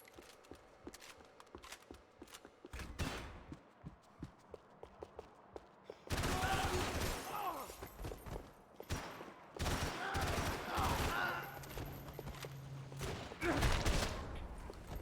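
Shotgun blasts and gunfire in the action game Max Payne 3 during a story-mode run, sharp bursts of shots and fusillades that grow denser and louder midway, with scattered footsteps and game clatter between them.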